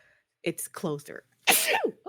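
A single sharp sneeze bursts out mid-conversation on a podcast, loud and close, coming right after a few spoken words and followed by more talk.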